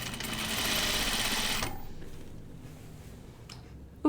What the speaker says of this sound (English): I'm going to, because it's my first seam of it on the machine today